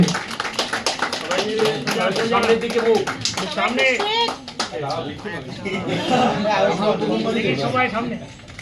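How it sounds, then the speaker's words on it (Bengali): Audience at a Bengali film trailer launch clapping for the team, bursts of hand claps mixed with chatter and light laughter, fairly close and lively, with voices talking over the clapping. "একটা জোরে হাততালি হয়ে যায় ফর দ্য টিম"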